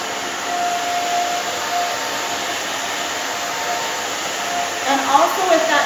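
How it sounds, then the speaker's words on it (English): A hair dryer blows steadily while hair is blow-dried for volume in a salon, a loud continuous whooshing hum with faint fluttering as the airflow moves through the hair. "I'm going to dry it this way. That gives her more volume and body."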